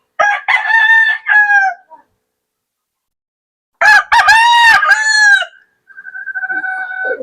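A golden monkey gamecock rooster crows loudly and close, giving two full cock-a-doodle-doo calls separated by silence, followed by a trailing lower cluck-like call.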